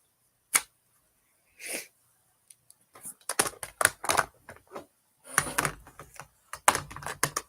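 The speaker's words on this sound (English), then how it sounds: "we're going to stamp that right there on the edge of our paper" An ink-loaded rubber stamp is pressed onto the edge of a sheet of paper for a bee-themed card, heard as a series of sharp close taps and clacks in quick irregular bursts, with no talking.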